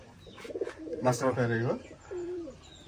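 Pigeons coo at a pigeon farm, with a loud throaty rolling coo rising to a peak in the middle, some softer calls around it and a fainter coo near the end.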